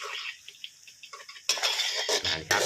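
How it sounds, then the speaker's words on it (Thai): Garlic hitting hot oil in a pan, a soft sizzle followed by louder bursts of frying crackle and some clinks of a utensil against the pan. "ใส่กระเทียมลงไป เจียวให้หอม เหลืองนะครับเพื่อนๆ"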